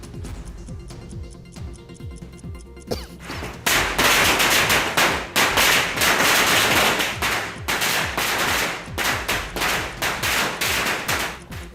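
Firecrackers burst in long rapid volleys as party workers celebrate outside Gayathri Shanthegowda's house, starting with scattered pops and then swelling into a loud, dense crackle that runs for several seconds with brief gaps.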